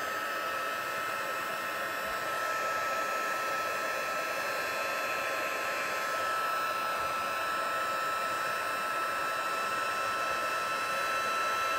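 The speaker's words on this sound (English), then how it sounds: "I'm just going to put my embossing heat gun on." Embossing heat gun blowing steadily for the whole stretch, a loud, continuous broadband whoosh like a hair dryer with a faint tonal hum, no talking over it.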